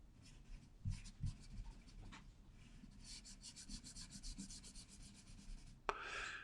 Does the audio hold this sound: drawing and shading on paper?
yes